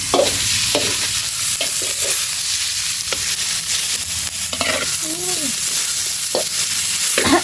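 Pork frying in oil in a pan, a steady loud sizzle broken by the scrape and clack of stirring, with a few tonal squeaks from the utensil against the pan near the middle; no talking.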